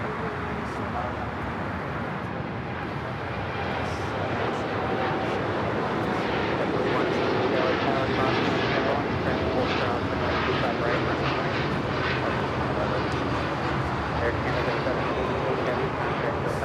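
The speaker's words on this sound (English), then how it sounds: "This is the Asiana A380 Super heading back to Seoul." An eight-year-old Asiana Airbus A380 takes off from LAX bound for Seoul, its engines a broad, sustained roar that swells slightly mid-way and holds loud at a moderate distance.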